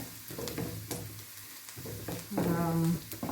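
Sliced onions sauté in a pan while pasta is being made, with a continuous close sizzle and stirring scrapes. A voice briefly sounds over the frying near the end.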